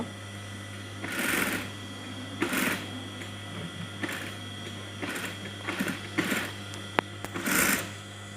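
A sewing machine stitches the band collar onto kameez fabric in about six short bursts of rapid mechanical stitching, separated by brief pauses, close and clear over a low steady hum.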